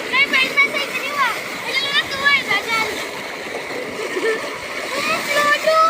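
People dive and splash into tube well water, with repeated splashes and churning water heard up close beneath excited voices, children among them, talking throughout.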